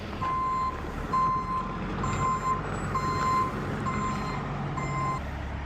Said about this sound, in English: I just received word that the stone truck is here